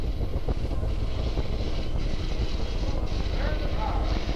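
Apollo 7 rocket engines roaring at liftoff, a dense, steady rumbling roar that fills the whole clip at high level with no breaks, and faint radio-style voices sitting underneath it.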